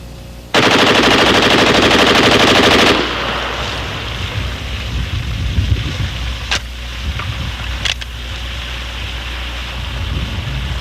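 An M2 carbine fires a sustained full-auto burst, loud and continuous for about two seconds, then cuts off abruptly, leaving outdoor ambience with a couple of sharp distant shots or clicks afterward.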